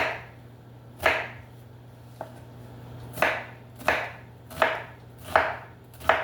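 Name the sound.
knife chopping onion into diced pieces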